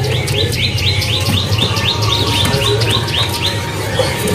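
Caged birds, including munias, at a bird market kiosk give dense, rapid, repeated high chirps close by over a busy background of other birdsong.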